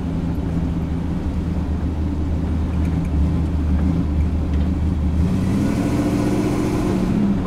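A loud truck engine with no air conditioning runs steadily while driven with the windows down, its deep rumble and low hum continuous, rising in pitch near the end as it revs.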